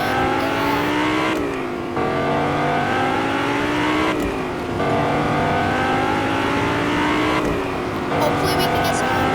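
Engine of a new Fortnite video game car revving loudly and steadily with rising, shifting pitch through repeated gear changes, with game talk mixed in underneath.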